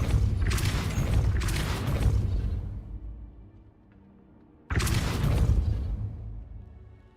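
A Depulso spell is cast in Hogwarts Legacy, giving two bursts of booming, whooshing magical impact with rumbling tails; the first runs about three seconds before fading to near silence, then a second blast hits sharply.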